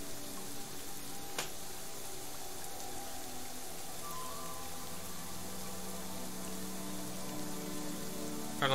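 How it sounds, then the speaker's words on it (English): Constant rain in the dinosaur survival game Saurian, a broad even patter of drops on surfaces with a faint tonal hum underneath and no voices. "Heck, it's raining."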